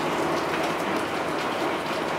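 Rain pours down steadily outdoors in the countryside, a constant broad wash of falling water with a slight rumble, close and loud, unbroken for the whole stretch with no talk.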